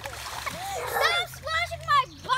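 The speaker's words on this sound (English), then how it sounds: "Stop splashing my butt!" Children splash in water with playful yells and voices over the splashing, a few bursts of splatter close by through a short stretch.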